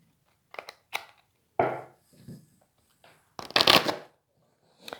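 Oracle cards being shuffled by hand, several separate brisk riffles and shuffles with short silences between, close and clear, ending in a louder burst.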